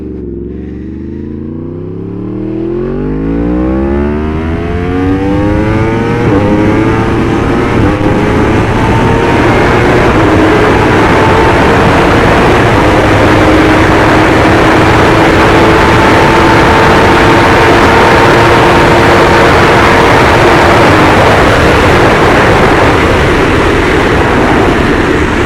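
A Yamaha R1 liter sport motorcycle accelerates from idle and climbs through revs, then holds a loud, sustained engine drone with wind rush while riding, close and continuous with no talk.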